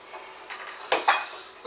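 Sausage roll filling being mixed in a bowl, soft squelching stirs broken by two sharp utensil knocks against the bowl, close and moderately loud.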